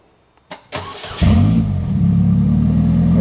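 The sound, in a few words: custom four-wheel Slingshot car engine starting and revving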